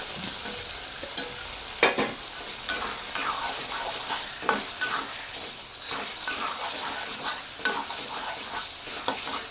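Paneer cubes going into a simmering matar paneer gravy, frying and being stirred with a utensil; a steady sizzle runs throughout with repeated scraping and clinking strokes against the pan, close and fairly loud, no talking.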